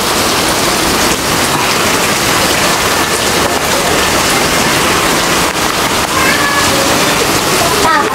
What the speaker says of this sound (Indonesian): kita tunggu sebentar hujan ya